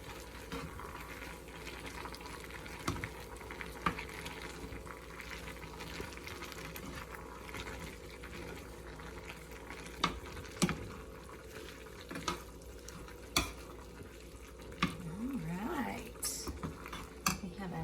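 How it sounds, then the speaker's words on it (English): Pasta with asparagus, broccoli, cheese and seasonings is stirred in a pan on low heat, soft bubbling and sizzling with intermittent scrapes and clinks of a utensil against the pan, close and continuous. "dump our cheese and our seasonings right on that. Turn that down low. Stir it around."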